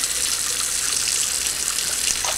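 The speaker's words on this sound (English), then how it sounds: "You drain them" Cooked beans drained in a colander, a steady, close, continuous rush of water streaming through the holes for a couple of seconds with no pauses.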